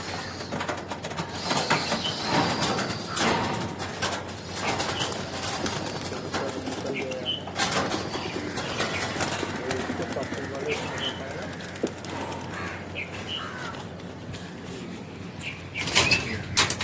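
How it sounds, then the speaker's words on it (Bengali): Six female racing pigeons released for a race in 37-degree heat: scattered flapping wing bursts and faint cooing over a steady outdoor background, with voices talking intermittently throughout. "এই হচ্ছে পায়রা ছাড়া হচ্ছে।"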